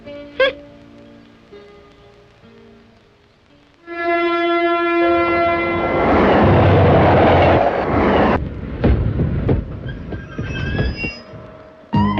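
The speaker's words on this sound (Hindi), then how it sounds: "जल्दी चलो, ट्रेन आ रही है" Train arriving at a station, first a long horn blast, then a loud, close roar of rolling wheels and rumbling carriages with squealing brakes, with no talk over it.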